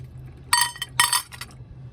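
Small metal tractor hydraulic shims and parts from a Kubota L2501 are dropped into a metal pan, giving two quick bursts of bright clinking and rattling, close and fairly loud over a low background hum.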